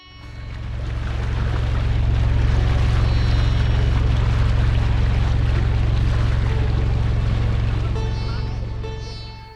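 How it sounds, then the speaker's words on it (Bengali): Boat ride on the Ganges at Varanasi: a steady, loud low engine drone with water and wind noise runs throughout, holding level for the whole stretch. "মা গঙ্গার ওপর এই নৌকা বিহার অন্যতম সুন্দর একটা পাঠ হয়ে থাকলো"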